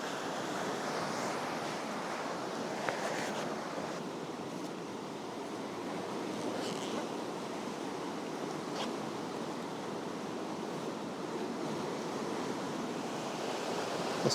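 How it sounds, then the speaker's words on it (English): Ocean waves break on rocks in a steady, wide wash of surf, with wind adding a constant hiss throughout and no distinct individual crashes. "I like the effect of that wave breaking on the rocks"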